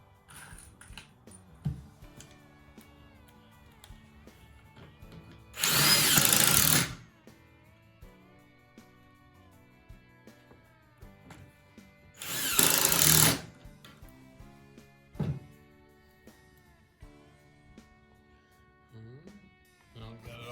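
A power drill drives screws into a Shaker-style cabinet door frame in two loud, sustained whirring bursts of about a second each, separated by quieter workshop sounds.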